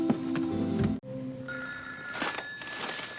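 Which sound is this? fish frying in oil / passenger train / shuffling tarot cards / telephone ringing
telephone ringing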